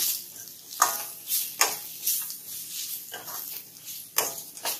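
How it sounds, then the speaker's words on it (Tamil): A spoon scrapes and stirs ground coconut, urad dal and chili in a sizzling pan for carrot rice, with repeated close scraping strokes over steady frying hiss. "அரைச்சி வச்ச தேங்காய், உளுந்தம்பருப்பு, மிளகாய் நீங்க இதே நல்லா மிக்ஸ் பண்ணிக்கோங்க"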